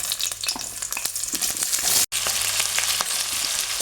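Four finely chopped onions sizzle loudly in hot oil, a dense crackling hiss with scraping stir strokes, broken by a split-second gap midway; no voices.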